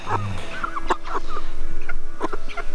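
Young homestead chickens in North Idaho, now grown big, clucking close by in a run of short, repeated calls with no talking.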